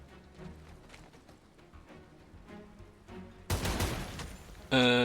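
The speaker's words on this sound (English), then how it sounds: "That guy took a shot at Woodsy, but blew something up in front of him." In the First Strike Warhounds video game, soft scattered shots build to a sudden loud blast at the end that holds as a roaring burst, followed by a brief ringing tone.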